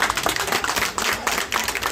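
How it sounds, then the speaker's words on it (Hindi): An audience at a Savitribai Phule birth anniversary event in Surat breaks into dense, continuous applause, many hands clapping together at a steady, moderately loud level. "जोरदार तालियां एक बार होनी चाहिए"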